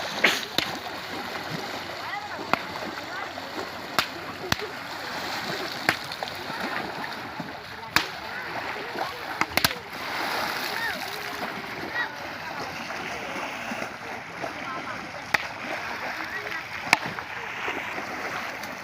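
Water splashing and sloshing as fish are caught from bamboo traps in Kathalia beel, with steady wet churning and occasional sharp slaps over a continuous outdoor bed of water noise.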